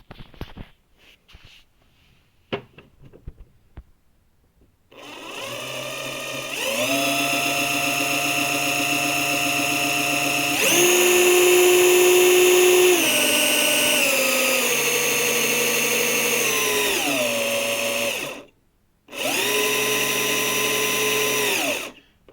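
A Festool TXS 10.8V cordless drill spins a 12 mm bit, whining steadily and loudly after a quiet start, rising in pitch midway, then stopping briefly before running again.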